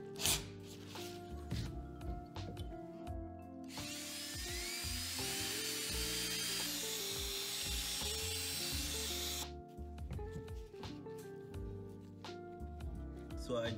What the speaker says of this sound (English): So I drilled the punch mark,